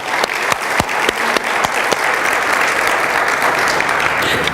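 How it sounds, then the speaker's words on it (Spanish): A church congregation claps loudly and steadily, with sharp distinct claps standing out over a dense wash of applause during a Spanish-language sermon. "Un aplauso fuerte al Señor Jesucristo."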